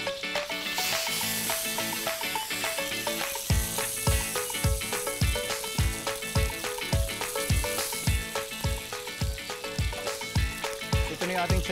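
Food sizzling steadily in a hot wok in a farm-to-table kitchen, with a regular rhythm of sharp scraping strikes as a utensil stirs and tosses, loud and close.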